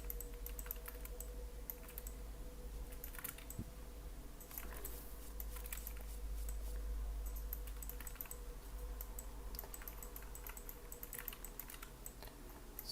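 Steady computer keyboard typing with clustered key clicks and taps throughout, near and fairly quiet, during a high-poly 3D modelling session with frequent shortcut key presses; no talk.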